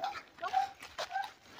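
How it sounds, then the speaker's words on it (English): A dog shut in a pen outside a house gives soft whines and a few short yelps, faint and a little distant, with quiet pauses between the sounds. "Doggies are in the pen. They gotta let him in the house."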